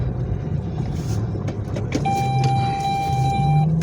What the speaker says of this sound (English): Stop dinging, car.